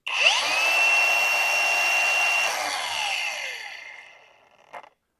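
A DCA 20V 4-1/2 inch cordless angle grinder spins up quickly to top speed with a steady high-pitched whine, holds it loudly, then winds down, ending with a brief clunk.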